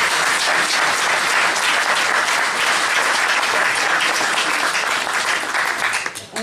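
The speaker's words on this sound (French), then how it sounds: "On peut l'applaudir aussi." An audience at a French political campaign event bursts into loud, sustained applause, a dense, even clatter of many hands that carries steadily before tapering off at the end.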